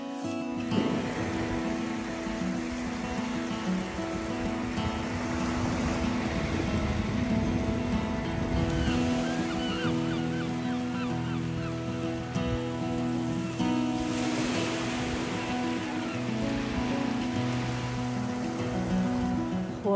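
Waves wash onto a beach on Scotland's Moray Coast as a continuous, fairly loud surf hiss. The wash swells slightly at a few points but never pauses, and there is no talk.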